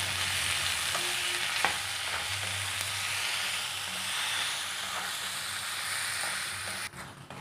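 Garlic, ginger and tomatoes fry in oil for an egg curry, producing a steady, close sizzle with occasional soft stirring scrapes, fading slightly at the very end.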